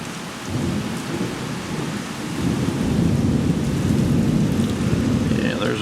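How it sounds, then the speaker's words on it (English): Low rolling thunder rumbles under steady summer rainfall, swelling gradually and staying broad and continuous behind the hiss of the rain. "There's a nice rolling thunder."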